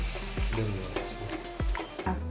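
Mustard seeds, dried chilli and curry leaves tempering in hot oil for a peanut chutney, crackling and sizzling close by with short bursts of popping and stirring scrapes, no voices.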